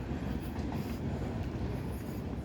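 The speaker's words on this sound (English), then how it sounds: "That's the J train. That one is going back to Jamaica Center." A New York City subway J train rumbles past in Queens on a cool summer evening, a steady close roar of rail noise with faint clickety-clack and no voices.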